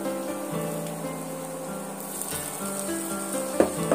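Pre-fried vegetables go into a hot pan of semolina for spicy jhal suji, and a steady oily sizzle runs throughout, with a few sharper crackles and stirring clatters near the end.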